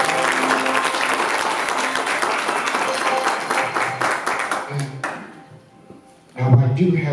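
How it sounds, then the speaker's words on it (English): Church congregation at a morning worship service applauding, a dense burst of clapping that swells and then fades out, with voices calling out over it and a fresh outburst of sound near the end. "Let's give them a round of applause."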